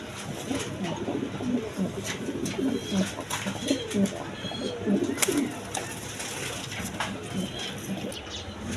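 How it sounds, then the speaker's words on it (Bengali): A pair of Panja pigeons sitting on eggs coo nearby in soft, repeated low bursts, with faint ambient rustle behind. "এখানে এক পেয়ার পাঞ্জা কবুতর আছে আপনার"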